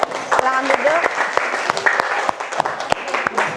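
A classroom group claps for students who just presented, a dense burst of hand claps near and loud, with some voices talking over it.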